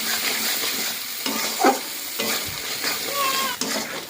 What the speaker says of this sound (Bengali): জিরা লঙ্কা দিচ্ছি। দেখো মশলাটা এইভাবে মিক্স করে নিচ্ছি।